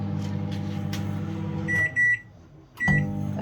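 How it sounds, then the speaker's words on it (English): Microwave oven running to melt butter in 30-second bursts, a steady low hum with beeps partway through, then the hum starting again, close and alone. "I'm going to put it in the microwave to melt on 30-second bursts."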